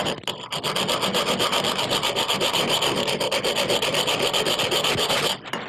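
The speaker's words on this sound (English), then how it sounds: "You see, it's actually cutting into the hammer head itself." A continuous harsh rasping scrape of a knife blade cutting into a metal hammer head, steady and close, with no voices.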